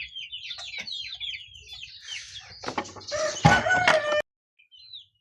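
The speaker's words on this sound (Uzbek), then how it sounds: "Bu yoqda ham bor jo'jalarimiz mana." Chicks and chickens clucking and cheeping on an Andijan poultry farm selling black chicks, a dense run of high chirps joined by louder clucks and calls, close and steady before stopping abruptly.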